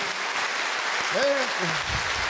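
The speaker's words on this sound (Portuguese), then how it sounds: "Aplaudir, pode aplaudir então, aplauda o nosso Deus maravilhoso." Brief, steady applause from an auditorium audience at a religious gathering, with a voice speaking over it midway.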